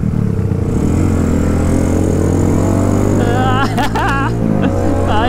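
A Ducati and a Suzuki Satria FU motorcycle overtake on a road at night, their engines droning loud and close with rising revs, while a horn-like burst and voices come through briefly.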